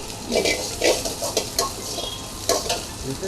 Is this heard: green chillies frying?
yes